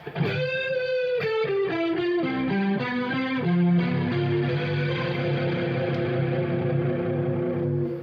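A distorted electric guitar plays a quick descending run of notes, then settles into a sustained, ringing chord.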